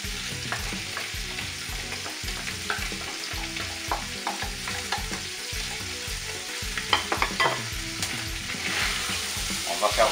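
Onions browning together with beef chunks in a pan for a beef, carrot and potato stew, a loud, dense sizzle and crackle under repeated scraping strokes of a spoon, close up and with no speech.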